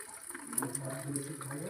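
Heavy rain pours down outdoors in a steady, rushing wash of water, with a person talking over the downpour.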